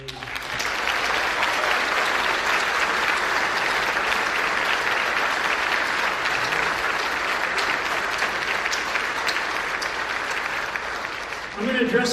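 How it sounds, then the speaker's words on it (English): A big round of applause from a crowd at a press conference, dense and sustained clapping that holds steady for about eleven seconds before a voice returns at the end. "And a big round of applause for our POWs and MIAs."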